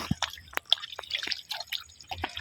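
Water collected while fishing outdoors is bailed out, giving a close series of irregular drips, splashes and small wet plops over a couple of seconds.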